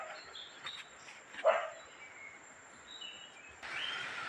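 A dog barks once, short and faint, in the distance outdoors during the first monsoon rain, over a steady soft hiss of background ambience.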